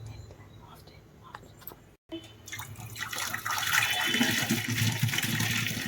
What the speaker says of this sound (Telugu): ఇలా వాటర్ పోయేలాగా వంపేసుకోవాలి.